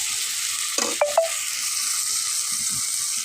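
Ground spice paste with cumin frying in oil in a pan for an egg curry, giving a steady close sizzle with a few brief stirring knocks and scrapes near the start, no voices.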